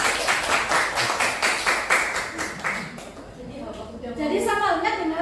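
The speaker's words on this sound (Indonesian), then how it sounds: "Boleh tepuk tangan untuk Pak Dewa." Applause from a school teachers' gathering, a steady patter of claps for the first few seconds that fades into background murmur and then talk.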